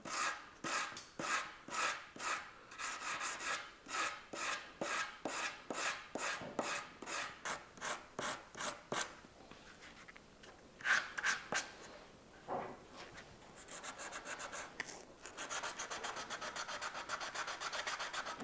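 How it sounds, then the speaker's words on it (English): Bentley Turbo R wooden trim being sanded by hand with 180-grit sandpaper: a steady series of rhythmic rasping strokes, close and fairly quiet, speeding into quicker scrubbing toward the end. "smooth it out as best we can with this bit of 180"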